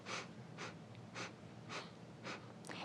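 A voice imitates a slow, wafting in-breath, repeated in five or six soft rhythmic breathy pulses at an even pace, close and quiet with no talking.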